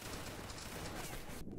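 A musket volley fired by a line of soldiers in a Waterloo battle video game: a dense, loud crackle of many overlapping shots filling the brief moment, then cutting off sharply near the end.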